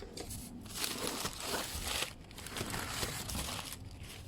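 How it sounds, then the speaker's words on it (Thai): Packaging crinkles and tears continuously as a second parcel of ornamental caladium plants is unboxed, the rustling dense and close with brief louder bursts throughout. "เราก็จะมาแกะกล่องที่สองนะคะ"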